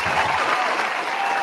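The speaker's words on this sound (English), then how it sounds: "Somebody give him a round of applause." A crowd at a panel discussion breaks into steady, full applause, a dense wash of clapping that holds evenly for the whole moment.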